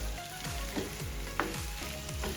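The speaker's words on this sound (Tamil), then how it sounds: "இப்போ ரம்பையில் வெங்காயம் இஞ்சி உள்ளி இந்த 3ம் ஓரளவு நல்லா வதங்கி வரட்டுக்கும்" Onion, ginger and garlic sautéing in a pan for soya meat curry, a soft steady sizzle with a few quick scraping stirs spaced through it, close but fairly quiet and with no talk.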